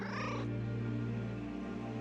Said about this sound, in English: Fanciful meow.